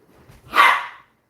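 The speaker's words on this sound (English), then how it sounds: "The dogs are upstairs wrestling." A single muffled dog bark from upstairs, where dogs are wrestling, short and moderately loud after a faint low scuffle, then silence.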